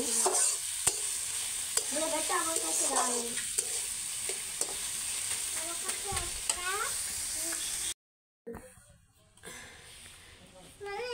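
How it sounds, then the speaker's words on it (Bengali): Vegetables fry in a pan, making a steady sizzle and hiss before noodles are added. The frying runs under a person's speech, with a short break near the end. "সবজিগুলো একটু ভেজে নেব"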